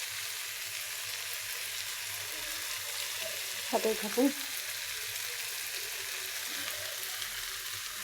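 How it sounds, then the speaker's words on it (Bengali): Food fries in a pan with a steady, even sizzle that fills the whole clip, a brief clatter near the middle and a faint voice speaking briefly. "এখন ভাজা করে নেব"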